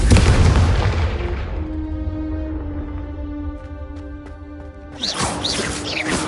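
A Confringo fire spell in Hogwarts Legacy erupts as a loud, booming blast, fades under a sustained humming tone, then bursts out again in a second crackling blast near the end.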